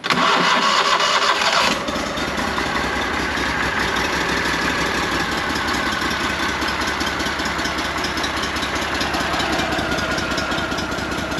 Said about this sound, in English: Pretty cool features, being electric start, cranks right up